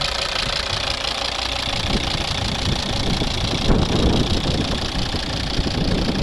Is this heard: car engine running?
yes